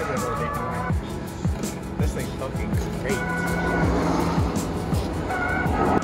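A small, toy-like Bugatti car drives off on a road, its wheels making a steady rhythm of ticking clicks over a continuous rolling hum, with faint voices nearby.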